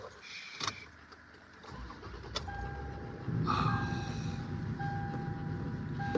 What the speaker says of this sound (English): you can hear my Toyota start up for the first time on the internet